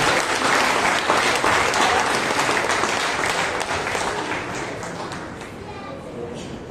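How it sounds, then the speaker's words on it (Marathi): A prayer meeting congregation claps for Jesus, a dense burst of applause that starts loud and gradually thins and fades over several seconds, with no talking over it. "एक जोरदार टाळ्या वाजू देवा"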